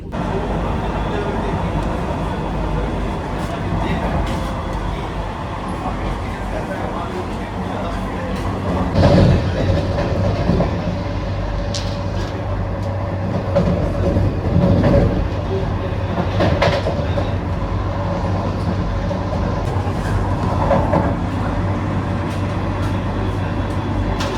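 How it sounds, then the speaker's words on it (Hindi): Vande Bharat Express train running at speed through a station, a steady rumbling rush heard from inside the carriage with occasional clatters and swells, under a low murmur of talk. "देखिए कितनी रफ्तार में हम किसी भी स्टेशन को स्किप करते हैं वंदे भारत एक्सप्रेस से"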